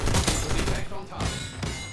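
Sniper rifle shots in a shooter video game, loud booming reports spaced across a couple of seconds amid dense game gunfire and mixed with talking.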